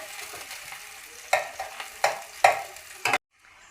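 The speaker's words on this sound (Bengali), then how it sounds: "দুটো শুকনো লঙ্কা, রসুন কুচি, পেঁয়াজ কুচি দিয়ে দিলাম। ভালো করে এগুলো লাল লাল করে ভেজে নেব।" Dried red chillies, chopped garlic and chopped onion sizzle in a hot pan, with several sharp scraping stirs of a spatula over a steady crackle before the sound cuts off abruptly near the end.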